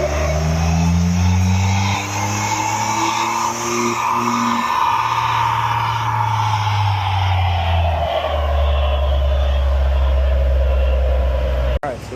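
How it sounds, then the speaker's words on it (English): A Ford Bronco engine revs hard and continuously on a chassis dyno during a single full pull, loud and close, the pitch climbing steadily, dipping, then climbing again before cutting off abruptly at the end. "Alright, got the Bronco on here. Gonna make a rip."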